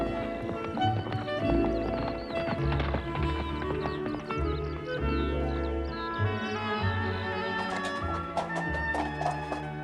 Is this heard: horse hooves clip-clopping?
yes